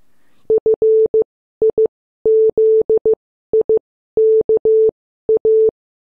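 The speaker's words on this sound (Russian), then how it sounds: "В телеграфе Морзе с помощью замыкания и размыкания ключа передается последовательность точек и тире" Morse telegraph signal: clean, loud tone beeps forming groups of short dots and longer dashes separated by pauses, a crisp rhythmic keyed pattern with no other sound.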